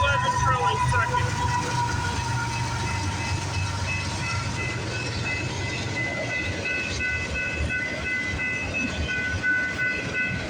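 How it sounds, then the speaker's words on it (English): A CPKC freight train rolls past on the rails with a loud, continuous rumble and steady clatter. Faint high squeals or tones run through the early part, and the passing stays close and even to the end. "Symbol on this train is CPKC 133."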